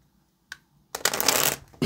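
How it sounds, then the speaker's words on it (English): Tarot cards are shuffled close up: a single soft tap, then a dense, fast riffling flutter lasting about half a second, with no voice over it. "Let's get just one more shuffle"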